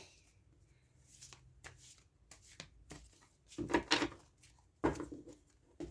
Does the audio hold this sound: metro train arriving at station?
no